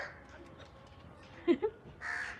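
Two quick crow caws ring out midway over a quiet background, followed by a brief burst of higher-pitched noise.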